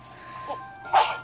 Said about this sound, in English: I sneezed again.